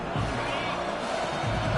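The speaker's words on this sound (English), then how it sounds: "This crowd full throat screaming" Football stadium crowd at a college game screaming loudly, a dense sustained roar that holds across the moment under a commentator's voice.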